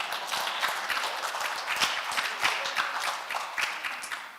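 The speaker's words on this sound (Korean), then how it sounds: "맞으면 박수 치세요." Scattered live clapping from a church-lecture audience, a quick run of individual claps from a small crowd, close and fairly steady for a few seconds with no voices over it.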